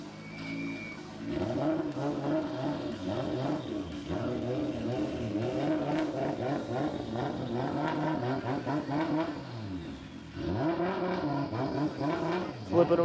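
A Nissan S15 drift car on Linglong tires revs hard and spins its wheels at a Formula Drift Japan event at Suzuka, the engine rising and falling in repeated loud sweeps over about thirteen seconds, with a commentator talking over it.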